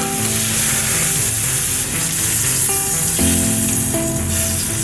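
A steak sizzling loudly on a burner, heard as a continuous close hiss and crackle that stays steady throughout, with music playing underneath.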